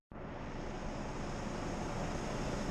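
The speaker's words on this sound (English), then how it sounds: "And we're going to boil." Wort at a rolling boil in a home brewing kettle during a biscuit beer brew, a steady, dense roar of bubbling that starts abruptly and holds constant and loud throughout, with no talking.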